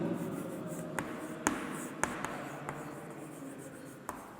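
Chalk or marker on a classroom board during a physics lecture gives a few sharp taps and short strokes over a steady room hiss, close and moderately quiet.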